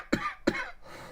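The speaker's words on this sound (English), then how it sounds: "Here comes a cough." Two quick coughs close to the microphone, a short gap between them, followed by quiet room tone.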